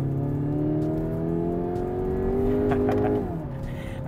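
A 2017 Kia Optima GT engine in sport mode roars steadily at high revs with a deep, throaty drone, then the pitch drops as it shifts or eases off.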